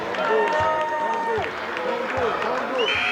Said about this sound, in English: there's the buzzer to end the game